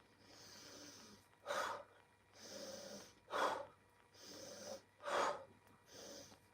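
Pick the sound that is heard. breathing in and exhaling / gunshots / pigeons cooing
breathing in and exhaling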